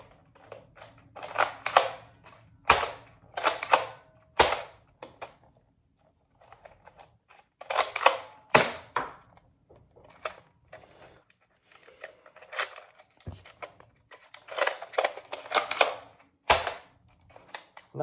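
A Nerf Elite Strongarm blaster firing Elite darts: sharp snapping shots come in irregular clusters, mixed with plastic clicks and rattles as the slide is racked, loud and close, with short pauses between groups.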